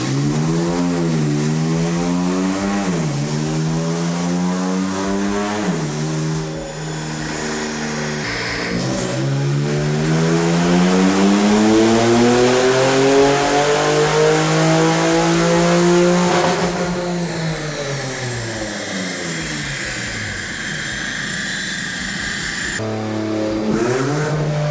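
A tuned car running E30 fuel screams through a dyno pull, its engine revving up in long rising sweeps, dipping and climbing again, loud and close for the whole stretch.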